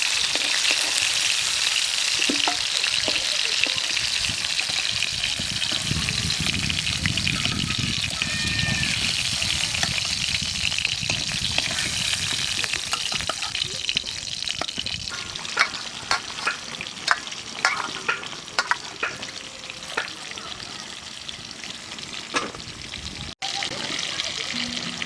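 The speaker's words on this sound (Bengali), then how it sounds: "ইলিশ মাছটা বেশি ভাজবো না" Hilsa fish frying in a pan of oil gives a steady, close sizzle with scraping and stirring sounds throughout and a few sharper pops toward the end.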